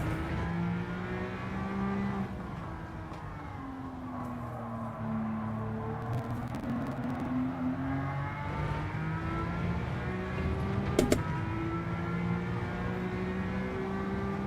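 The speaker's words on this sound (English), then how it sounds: "Feel those tyres squeal. You can hear them." McLaren GT3 tyres squealing in a racing video game, with a steady engine drone throughout; a brief sharp squeal shows near the end, fairly loud and continuous with no talk.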